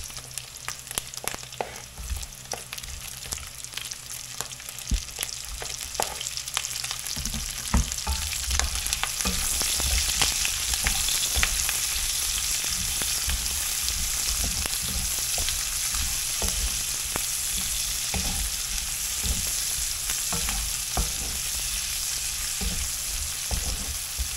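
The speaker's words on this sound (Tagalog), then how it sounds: "Lagay ko na rin po ang sibuyas." Onions sizzle in a pan with pork belly for a squash stir-fry, a dense steady crackle that grows fuller after a few seconds and runs on, dotted with occasional utensil knocks.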